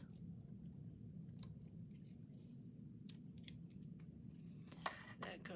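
Paper is cut with scissors for an index card mini journal, a few quiet crisp snips standing out against a low background hum, with a soft cluster of cuts near the end.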